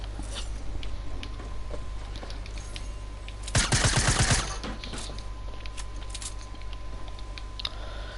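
A single sharp burst of rapid gunfire in Fortnite, a fast rattle of shots lasting under a second, stands out against quieter clicks and game ambience.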